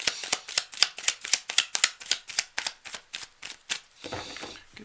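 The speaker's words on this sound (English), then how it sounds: "I'm just going to shuffle up, Lena, okay?" Playing cards are shuffled in a run of quick riffled snaps, close and crisp with a steady rhythm, followed by a softer bridging rustle at the end; no speech.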